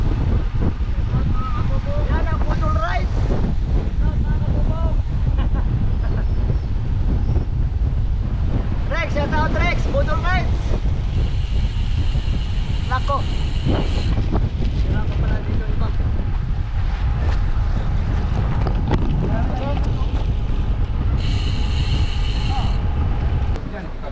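Strong wind roars and buffets the microphone throughout during a group bicycle ride, with voices faintly talking beneath the rumble.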